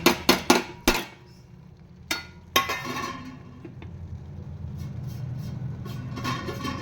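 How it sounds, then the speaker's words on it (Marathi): A metal cooking pot clatters on a home stove while raw banana curry is made, opening with a quick run of sharp clanks, then a few more scattered knocks followed by soft scraping and stirring. "मला भांड्याचा आवाज येत असेल,"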